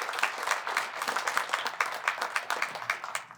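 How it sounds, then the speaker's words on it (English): Audience at a research summit clapping for a panel, a brisk, fairly close patter of individual hand claps with no voices, moderately quiet and steady for a few seconds. "let's give our panel a big round of applause."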